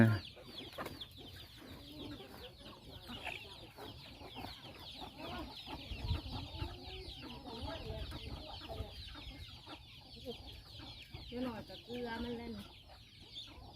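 A flock of chickens, a whole army of them, clucks around a rice-field farm, with soft clucks and calls scattered steadily throughout and occasional distant voices underneath.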